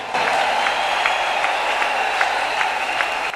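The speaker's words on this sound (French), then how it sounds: "Acclamez Jésus." A church congregation claps along at a worship gathering, steady rhythmic applause with evenly spaced beats filling the room, a few faint voices mixed underneath.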